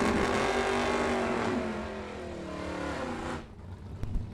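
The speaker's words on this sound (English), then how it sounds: "here comes Jim Keith and the wheel-standing Chevelle" A wheel-standing Chevelle drag car launches hard at a drag strip, its loud, close V8 roar rising and rumbling for a few seconds before cutting off abruptly, with no talking.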